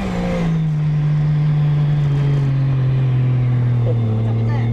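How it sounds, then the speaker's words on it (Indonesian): A drift car spins donuts, its engine holding a steady loud drone with only the throttle worked, no clutch, while Asilos tires spin and scrub against the pavement throughout. "Ini dia lagi buat donat."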